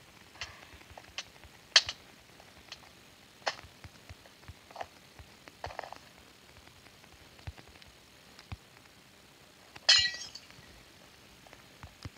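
Glass blocks shattering in the Minecraft video game during a Simon Says minigame, a series of sharp clinking breaks scattered across the span, with a louder crunchy burst near the end and no talk.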